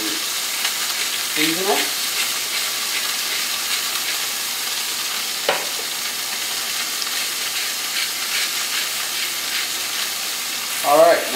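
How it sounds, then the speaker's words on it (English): Continuous sizzling of chicken frying in a pan, close and steady, with a few brief bursts of speech over it and a clatter near the end. "Place our chicken in the pan."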